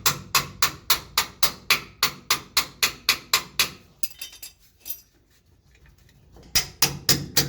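Hammer taps a truck shock into place on a Silverado 3500HD 4x4 welding truck, a fast regular run of sharp metallic strikes, a pause with scattered faint clinks, then more strikes.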